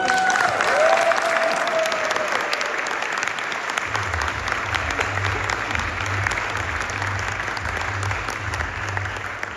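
Sustained audience applause at a charity walk awards event, a dense even wash of clapping lasting several seconds, with a voice briefly heard at the start and a low music bed entering midway.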